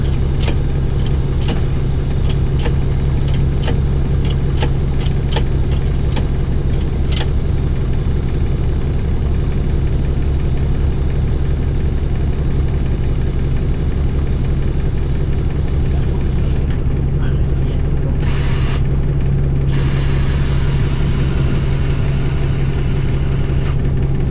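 A Dennis Dart bus engine runs in a loud, steady low drone, while early ticking gives way to hissing air bursts as the suspension kneels and lifts, with no speech.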